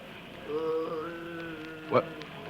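A person moans in a low, drawn-out wavering tone inside a dark shack, followed by a brief sharp knock or thump, in an old radio crime drama.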